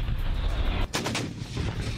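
A loud burst of gunfire with sharp reports over a rumbling, distant-sounding background, from fighting between Armenian and Azerbaijani forces near Nagorno-Karabakh.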